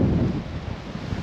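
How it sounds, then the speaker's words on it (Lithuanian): Strong wind buffets the microphone at a fishing spot, a loud, steady low rumble that is strongest at first and eases slightly, with no one speaking. "O vėjas koks"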